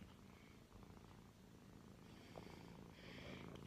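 Soft, steady purring from a cuddling pet cat, faint and close, running continuously with a slight rise near the end.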